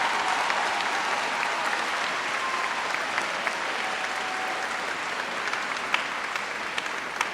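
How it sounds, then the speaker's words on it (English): Steady applause from a sizable crowd at a university commencement ceremony, sustained and even throughout with no break, loud and continuous. "Let's give her a round of applause."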